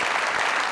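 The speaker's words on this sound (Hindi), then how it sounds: "सगावत साहब के लिए जोरदार" Studio audience on a comedy talk show bursts into a short, dense round of applause lasting under a second.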